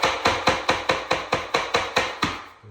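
A tapping block strikes a laminate flooring plank to knock it into place, giving ten evenly spaced sharp knocks, each with a short decay, loud and close, with no voices.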